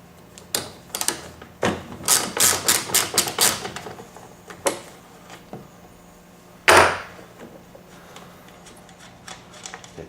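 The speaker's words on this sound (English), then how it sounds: "I'm going to take the nut off here and remove this front wheel" Work on a lawnmower propped on a block, taking the nut off a front wheel: scattered close metallic clicks, then a quick run of rapid ticks and one louder clunk, with quiet gaps between.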